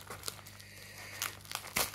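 Small parcel packaging crinkles and tears as it is opened, a series of close, sharp rustles and crackles coming in uneven bursts, the loudest near the end.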